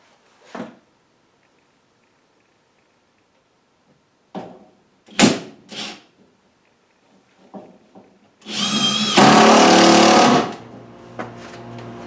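Screw driven into a wooden joist in a workshop by a power driver, a single loud sustained whir of about two seconds after a few scattered knocks and clunks of positioning, with no talk.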